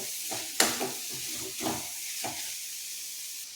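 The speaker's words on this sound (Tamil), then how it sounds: "கேரட் கொஞ்சம் நேரம் வதங்கட்டும்." Grated carrot sautéing in a hot pan for a quick Tamil breakfast dish, giving a steady soft sizzle. A few spatula stirs and scrapes knock against the pan, the first one sharp and loud, with no voices.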